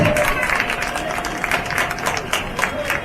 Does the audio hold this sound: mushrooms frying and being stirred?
no